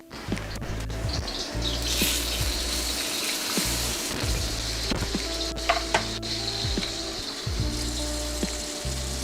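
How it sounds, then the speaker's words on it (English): Salmon sears in a generous pour of hot oil in a wok on a home range, giving a steady, close crackling sizzle that runs the whole way through, with a low tonal hum and scattered sharper pops. "So we're gonna let that sear."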